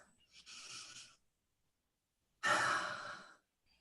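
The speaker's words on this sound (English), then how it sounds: "And then take another breath, please." Two slow, deep breaths sound close in a quiet room: a soft, airy breath, a pause of silence, then a louder and fuller sighing exhale.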